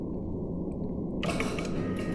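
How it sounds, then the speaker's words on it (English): A heavy vault door opening, with a low mechanical grinding and ratcheting rumble that swells into a brighter creaking, clanking movement after a moment. "The vault door opened behind them."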